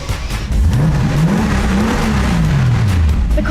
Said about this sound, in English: let's take a listen at how that engine sounds